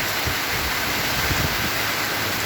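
Heavy rain pours down steadily through a windy night, a dense, even wash of noise that stays loud and unbroken throughout.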